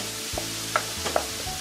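Tube garlic sizzles briefly in a hot pan with a few stirring clinks, soft and close.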